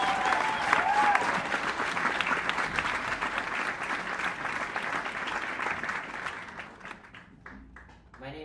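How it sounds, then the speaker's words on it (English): Applause from an audience for student performers opening a music school's fall concert, a dense, steady wash of clapping lasting several seconds before thinning out and fading near the end. "So let's give our performers one big round of virtual applause and start the show."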